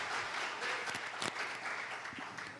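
A Portuguese-speaking church congregation claps together in a sustained, even wash of applause, with a few louder individual claps standing out; moderately loud and without speech.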